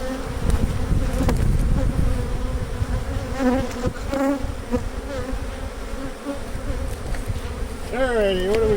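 Honey bees buzz around a beehive box, forming a steady dense hum close by, with individual bees whining past the listener over the continuous drone.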